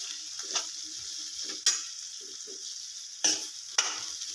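Okra (bhindi) cooking in a pan over medium heat with turmeric, a soft hiss broken by a few sharp spatula clinks and light stirring scrapes, quiet and close.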